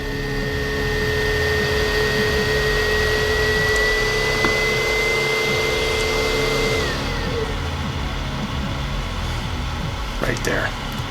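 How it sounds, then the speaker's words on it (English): A heat gun blowing on cable casings for a double-shielded PWM control cable, a loud continuous whooshing drone with a steady whine that shifts and fades near the end. "Now I'll heat each casing to just pull them back a little bit."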